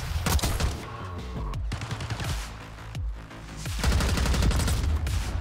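Black Ops 6 gunfire with a GPR 91 rifle: loud rapid automatic bursts in several runs broken by short gaps, dense rattling cracks with echoing tails.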